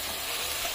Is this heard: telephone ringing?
no